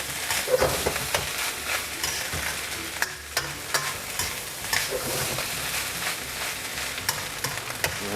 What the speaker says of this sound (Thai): ผัดคั่วๆนะครับ ให้ทุกอย่างเข้ากันดีก่อนนะครับ เปิดไฟแรงเลยนะครับ